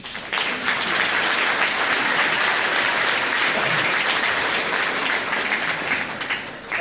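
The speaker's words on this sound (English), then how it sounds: "Round of applause, please." Audience applause at a Seattle Colleges convocation, a dense and steady clapping from a large crowd that holds loud for several seconds and then tapers slightly at the end.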